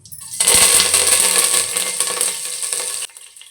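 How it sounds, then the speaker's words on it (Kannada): Mustard seeds and curry leaves frying in hot oil give a loud, close, steady sizzle with crackling pops. It starts abruptly, runs about two and a half seconds and stops sharply. "ಎಣ್ಣೆ ಕಾದ್ಮೇಲೆ ಸಾಸಿವೆ ಇದ್ದೀನಿ ನೋಡಿ ಸಾಸಿವೆ ಸಿಡ್ದಾದ್ಮೇಲೆ ಅದಕ್ಕೆ ಕರ್ಬೇವಿನ ಸೊಪ್ಪು ಇದ್ದೀನಿ"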